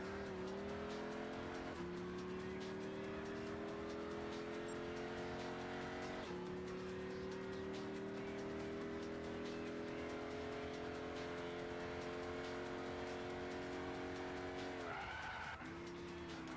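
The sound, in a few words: tires squealing on a Chevy in the video game Gran Turismo 6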